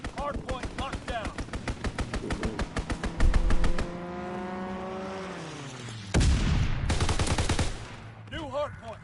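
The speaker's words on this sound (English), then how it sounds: "Enemy strafing run inbound." An enemy strafing run in a WWII shooter game on a hardpoint map: rapid machine-gun fire with a plane diving past, then another loud burst of gunfire. Voices talk over the battle.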